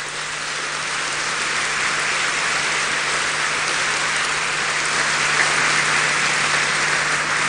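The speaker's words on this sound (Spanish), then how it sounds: "Yo creo que a los organizadores hay que darle un buen aplauso, ¿ah?" Sustained audience applause at the close of a day of sessions at a futures congress, a dense steady wash of many hands that holds evenly and swells slightly toward the end, with no talking over it.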